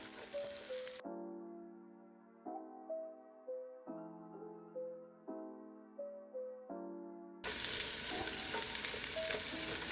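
Food frying in bacon grease sizzles in a pan while brown bits are scraped loose. A brief sizzle gives way to a melodic run of plucked notes, then a loud, steady frying hiss returns.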